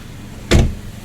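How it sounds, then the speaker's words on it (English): A single loud thunk of a BMW 218 Gran Coupe car door shutting, close and abrupt, with a short tail before quiet returns. "No matter how you close the doors, right? They're very loud."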